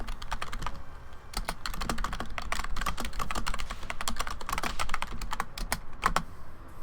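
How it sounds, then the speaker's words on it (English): A loud computer keyboard clatters close to the microphone during a live gaming stream, with rapid, continuous keystrokes tapping in quick irregular bursts throughout. "Also, sorry about the loud keyboard."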